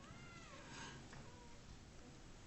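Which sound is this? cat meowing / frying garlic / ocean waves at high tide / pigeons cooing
cat meowing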